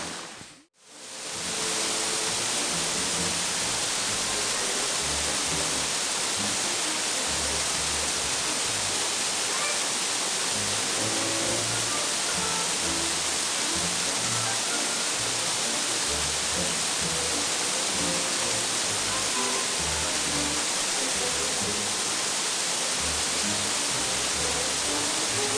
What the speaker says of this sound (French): On peut pas monter par la cascade.